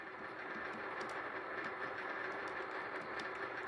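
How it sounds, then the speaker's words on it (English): An old car engine being restored runs at a slowed idle, a steady even rumble with a faint rhythmic ticking, constant and fairly quiet. "Slow the engine down."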